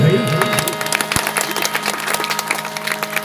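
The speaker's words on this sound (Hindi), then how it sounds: "आगे पीछे लगा था ताली बजा दे भाई।" Audience at a Chhattisgarhi nacha folk performance clapping, a dense patter of many hands applauding steadily, with a voice speaking over the start.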